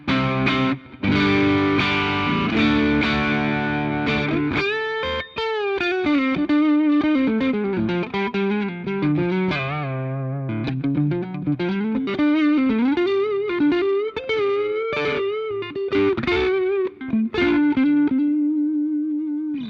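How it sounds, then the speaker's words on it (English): An electric guitar on the neck pickup runs through an OD808 overdrive pedal into a Fender Twin, playing a warm, driven melodic line with sustained bends and chords, loud and continuous with no voices. "That's the OD808."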